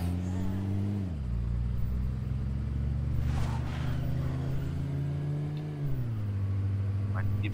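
A car engine drones steadily while driving in the video game State of Decay, its pitch stepping down, holding, then dropping again, with a voice talking over the engine.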